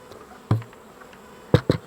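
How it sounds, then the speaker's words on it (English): Honey bees buzz around an open beehive, close passes sounding as short loud buzzing bursts, one near the middle and two in quick succession toward the end, over a quiet background. "oh, there's a lot of bees in here."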